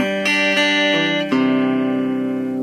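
Electric superstrat guitar on the bridge-and-middle pickup combination, playing a few close, clean sustained notes and chords with bright twang, ringing out alone.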